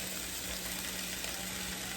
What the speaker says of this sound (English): Y'all can hear that sizzling.